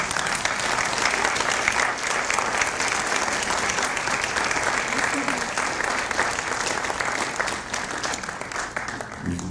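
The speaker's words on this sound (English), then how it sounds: "acknowledge their love and support with a round of applause for them" A large audience at a dental medicine commencement ceremony claps steadily, a dense, sustained wash of applause filling the hall at full volume before thinning slightly near the end.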